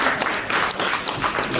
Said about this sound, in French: Alors applaudissez-les s'il vous plaît.